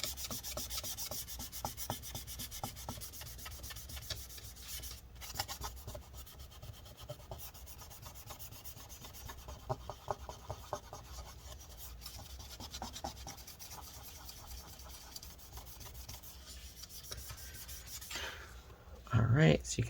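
A paper towel soaked in rubbing alcohol wipes the interior of a mid-2017 13-inch MacBook Pro A1708, producing steady close scrubbing and rubbing strokes with a louder burst at the end.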